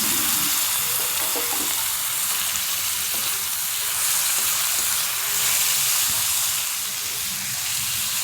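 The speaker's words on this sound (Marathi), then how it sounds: "असा चांगला कांदा लाल होतोपर्यंत परतून दिला हिंग टाकला हळद टाकलं आणि चिरलेले मस्तपैकी टोमॅटो कच्चे हे टाकून घेतले" Chopped unripe green tomatoes sautéing with browned onion, asafoetida and turmeric in a pan for a chutney, a loud steady sizzle and hiss close up, with no voices.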